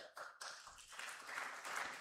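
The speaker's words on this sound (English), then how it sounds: "Another applause for them." Faint, distant applause from an audience at an international conference, starting with a few scattered claps and then swelling into a steadier patter.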